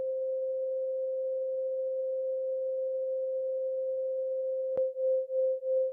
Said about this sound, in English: So this is an example of a sound portrait.